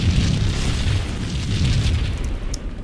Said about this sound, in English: For the record, the bombs are not my fault.